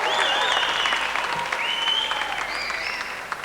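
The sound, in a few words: audience applause at a telethon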